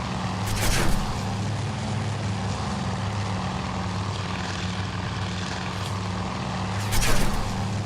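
Propeller aircraft engines in the game Task Force Admiral, a steady close droning hum with low tonal bands, swelling briefly at the start and again near the end.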